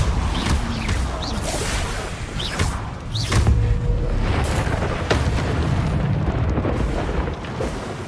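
Confringo spell blasts in Hogwarts Legacy go off as several sharp booms and bursts amid ongoing combat noise, loud and close, spaced irregularly over several seconds.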